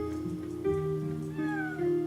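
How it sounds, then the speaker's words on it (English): A cat meows several times in the video game Chrono Cross, short tonal mews in quick succession over quiet background game music, with no talking. "Oh, kitty."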